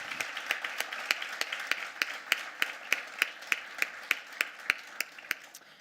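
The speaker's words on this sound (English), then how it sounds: "Let's give our SGA e-board a round of applause." A small audience gives a steady, evenly paced round of applause for a student government executive board at a college induction ceremony, the claps distinct and fairly close, with no talking.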